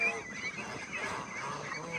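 Free-range ducks on a hillside farm beside a small fish pond give nasal, honking quacks that overlap one another against a fairly faint outdoor background.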